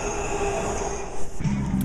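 A Washington DC metro train rolling past, a loud steady rumble with rail hum and a brief wheel squeal near the end, heard alone.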